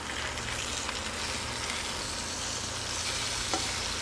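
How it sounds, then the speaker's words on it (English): A salmon fillet sizzles in a Hestan Cue pan, a steady close hiss of frying that runs throughout, with a faint clink as the fish is flipped. "So we're gonna go ahead and flip the fish here."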